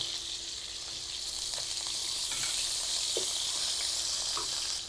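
Potato pieces, medium potatoes halved and cut in thirds, sizzle in hot oil in a pan, a steady close frying hiss running throughout with a few faint clinks and stirring sounds.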